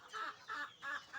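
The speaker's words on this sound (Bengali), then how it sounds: "মুরগির খামার।" Chickens at a rooftop chicken farm give four soft, evenly spaced clucks, faint and fairly close.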